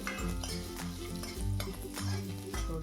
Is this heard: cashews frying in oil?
yes